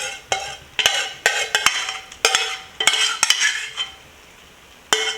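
Spoon scraping and clinking around a bowl while making Trini cowheel and pigtail soup, a series of sharp close metallic taps and scrapes in irregular rhythm, with a short pause before a final clink.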